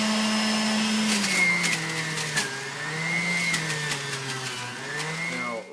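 A juicer whines as a pepper, greens and ginger root are pushed through it, its motor pitch sagging and rising under load with scattered crunching clicks, close and steady throughout.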